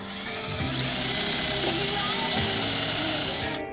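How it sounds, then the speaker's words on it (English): A power drill boring a pilot hole for a hole saw in the body of a 2018 BMW X1 during a trailer hitch install, a continuous loud whirring drone with a shifting pitch, running alone for nearly four seconds. "But before I can use this, I need to do a pilot hole."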